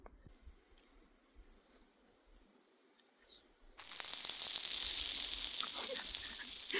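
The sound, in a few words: food sizzling in pan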